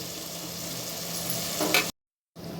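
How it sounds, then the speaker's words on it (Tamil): Crushed green chili, ginger and garlic sizzle briefly in a hot pan with a stirring scrape, then a sudden cut to silence and the frying resumes. "பச்சை மிளகா, இஞ்சி, பூண்டு தட்டி வச்சுருக்கோம் இல்லையா, இதை போட்டு வதக்கலாங்க."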